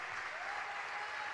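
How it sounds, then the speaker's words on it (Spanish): Brief burst of church congregation applause during a pastor's sermon, a steady wash of many hands clapping, moderately distant with room echo. "Dele un mejor aplauso."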